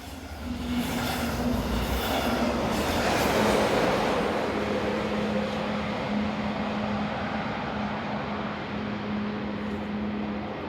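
Locomotive 143883 passes steadily northbound toward Meissen from start to finish, with a low droning hum and broad rushing noise holding at a fairly loud, even level.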